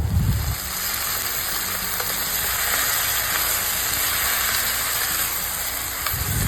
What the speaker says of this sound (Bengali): দিয়ে দিলাম একে একে পুঁই শাক পুরোটা, আর দিয়ে একটু নাড়তে থাকবো।